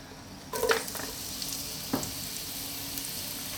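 Star anise, lemongrass and ginger drop into a hot pan for a fish lemongrass coconut milk stew, setting off a steady close sizzle with two brief louder crackles as they land.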